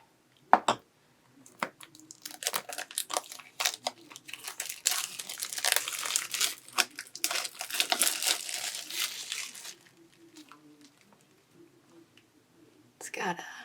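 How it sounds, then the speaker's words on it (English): Plastic shrink wrap being cut and peeled off a Tarot Z board game box, a run of close crinkling and crackling that fills the middle stretch, with faint whispery sounds around it. "let me just cut the plastic here"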